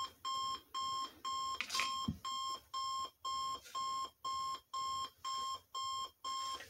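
A Sony Dream Machine ICF-C122 alarm clock sounds its alarm: a steady series of about a dozen evenly spaced electronic beep bursts, moderately loud and close, with no talking.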